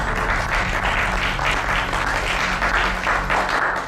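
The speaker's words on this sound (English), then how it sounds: "A round of applause for our butler." Steady, dense applause from an audience, continuous and loud throughout without pauses.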